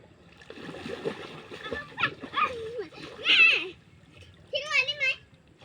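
Splashing water from a child playing in water, heard in short bursts alongside a child's excited high-pitched voice and a brief squeal near the end.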